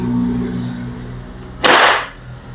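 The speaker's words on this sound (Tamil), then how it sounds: "பெல்லட்டை ஃபீட் பண்ணிவிட்டு நம்ம ஃபயர் போயிடுவோம்." An air rifle fires a pellet toward a target 90 metres away, one sharp loud crack standing out from a quiet, humming background.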